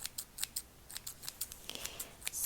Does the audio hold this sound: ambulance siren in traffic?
no